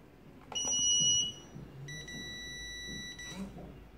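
A PE-500 queue management pager sounds after being configured: two close, bright electronic beep tones, the first shorter and the second held longer, over a low room hum with faint background voices.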